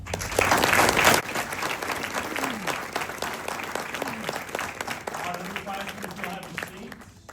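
A banquet audience applauds a team after a great season, a full burst of clapping that settles into steady applause, with voices and whoops rising over it.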